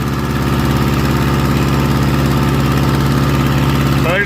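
A skid steer engine runs with no rear counterweights, idling close by as a steady, loud, throbbing drone at an even pulse, with no breaks.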